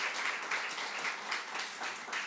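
A church congregation claps steadily and briskly for a couple of seconds to welcome a pastor, a dense, even wash of applause with no voices.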